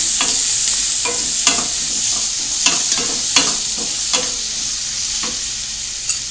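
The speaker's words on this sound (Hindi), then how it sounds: "थोड़ा चम्मच चलाएंगे।" Steady frying sizzle of garlic and ginger in a pan, with a spoon scraping and clinking against the metal every second or so as they are stirred.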